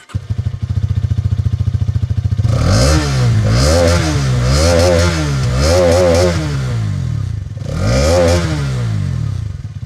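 Hero Karizma XMR 210 motorcycle (2025 Combat Edition) idling with a quick, even exhaust thump, then revved hard several times in close succession, each blip rising and falling loudly, followed by a final rev after a short idle.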